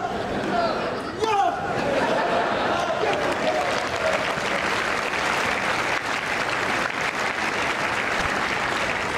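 A crowd claps continuously for Mansour Bahrami at the Prague Open tennis exhibition, dense, even applause with some chatter running the whole time.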